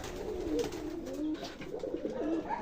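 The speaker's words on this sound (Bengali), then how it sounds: "আমার কবুতররা কিন্তু অনেক ডাকাডাকি করছে" Pigeons waiting to be fed coo and call repeatedly on a foggy morning, with soft, throaty, rolling coos overlapping close by and no talking.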